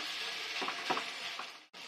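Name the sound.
veggie pancake batter frying in a little oil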